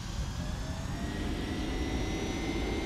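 Boeing 767 jet engines spooling up to takeoff power in the X-Plane 11 flight simulator, a steady, loud, continuous roar with a deep rumble and faint high whine throughout.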